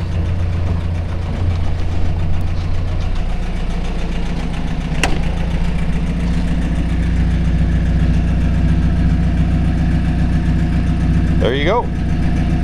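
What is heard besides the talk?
1950 Willys Overland Jeepster engine idling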